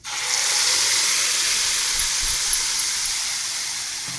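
Ground masala paste hits a hot pan and sizzles in a steady, bright, loud hiss that holds almost evenly throughout, with no voices over it.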